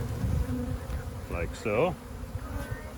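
Honeybees buzz in a steady, faint hum while a nuc box is split. Someone speaks briefly over the buzzing.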